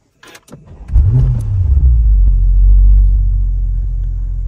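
An Audi 4.0T V8 start-stop engine cranks briefly, catches and settles into a deep, steady idle rumble up close, with no talk.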